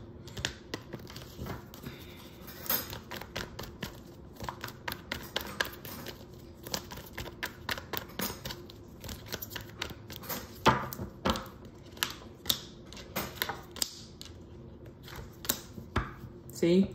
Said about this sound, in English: And then I'm going to shuffle this and get you three more cards and I'm out.